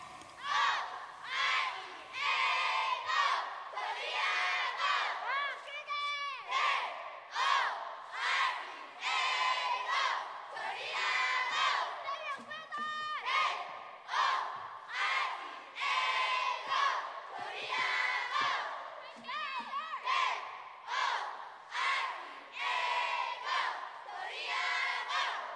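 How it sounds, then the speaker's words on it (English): Crowd at a youth all-girl advanced cheerleading competition cheering and shouting in rhythmic bursts, loud and continuous with repeated chant-like surges throughout. "Can hear the crowd participation"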